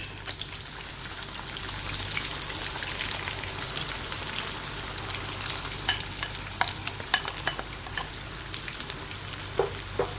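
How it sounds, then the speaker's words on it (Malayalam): Onions frying on high flame in hot coconut oil for a duck roast biriyani, a steady close sizzle with scattered crackling pops growing sharper toward the end, no voices. "നമുക്കിതിലോട്ട് ഫ്രൈ ചെയ്യാനുള്ള സബോള ഇട്ട് കൊടുക്കാം."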